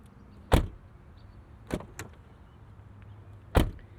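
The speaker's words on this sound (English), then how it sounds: "let's actually listen to these doors here." Doors of a 2026 Mercedes-AMG E53 Wagon thud shut nearby, three solid slams spaced a second or so apart, with a latch click between, in an otherwise quiet space.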